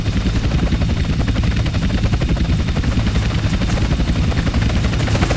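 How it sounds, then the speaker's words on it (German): Helicopter rotors in the video game GTA San Andreas, a loud continuous chopping drone that stays steady and close throughout. "2 agency choppers coming in on an intercept."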